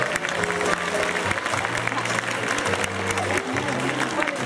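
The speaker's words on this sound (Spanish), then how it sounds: "Fuerte aplauso nuevamente para este grupo de alumnos." Audience at a farewell ceremony for graduating senior high school students claps steadily throughout, a dense even patter of applause with faint crowd noise underneath.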